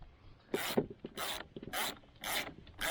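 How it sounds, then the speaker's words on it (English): Ratchet wrench with a 14mm socket turning the propeller nut on an Old Town Sportsman PDL 120 kayak, heard as four or five loud rasping bursts of rapid pawl clicks, each about a quarter second long, separated by short pauses. "A ratchet with a 14mm socket will get this nut off."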